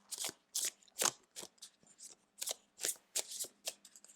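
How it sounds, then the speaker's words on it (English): Fournier playing cards being shuffled in a quick run of crisp riffles and snaps, about a dozen bursts spaced irregularly, close and clear with no talking. "I'm going to use my Fournier playing cards for the first one"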